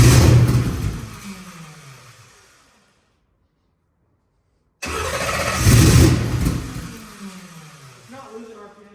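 The X275's engine cranks and catches, then revs up in throttle bursts with its pitch rising and falling; the sound cuts out briefly before returning loud and close, and people speak partway through.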